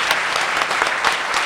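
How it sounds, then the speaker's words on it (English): A conference audience claps for the translators at a final session, a dense burst of close applause from many hands lasting the whole moment. "we should applaud the translators who have been doing an excellent work for all of us"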